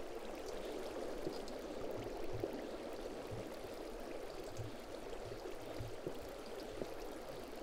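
Water flows in Minecraft where a player places blocks of it for a slime farm: a faint, continuous trickling rush, quiet and steady throughout.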